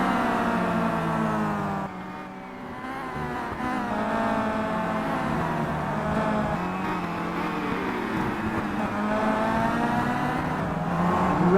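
Race cars in a simulated 2011 WTCC touring car race in Simraceway, a dense pack of engines droning and revving loudly together with shifting pitch as cars jostle and pass, continuous throughout with no talking.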